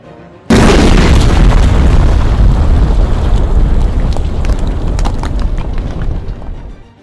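A loud, sudden explosion effect bursts in and then rolls on as a long, rumbling roar that slowly fades, with crackling debris toward the end and no voice over it.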